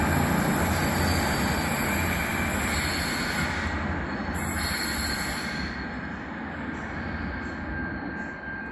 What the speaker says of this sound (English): There's a Wendouree train.